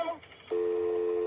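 Steady continuous phone line tone after a 911 emergency caller hangs up, starting abruptly after a brief moment of faint muffled noise and holding level to the end.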